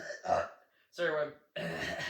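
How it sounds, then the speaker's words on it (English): A throat being cleared and a burp-like grunt, close up, in three separate bursts with short pauses between. "I had to clear my throat for a sec there and burp"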